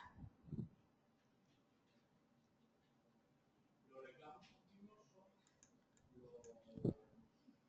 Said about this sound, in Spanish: Entonces, vamos a darle doble clic acá.